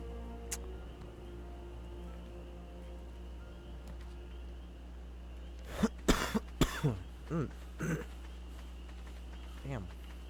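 A person coughs several times in a quick cluster of sharp, throaty bursts, followed later by a single cough, against a quiet, steady hum with faint clicks.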